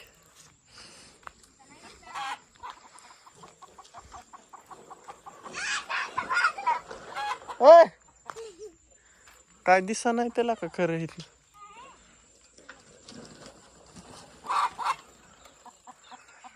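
Farmyard chickens cluck in scattered bursts and a few longer calls at moderate distance, interleaved with people chatting on a farm in the evening.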